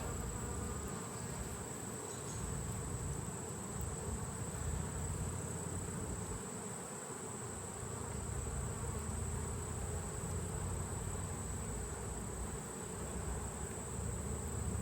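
Honeybees buzz continuously during an October inspection of combined hives, a dense steady drone close to the listener that holds at an even level throughout, with no voices.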